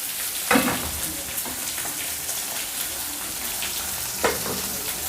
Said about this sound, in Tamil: போட்டுட்டு நல்லா ஃப்ரை பண்ணிக்கலாம்.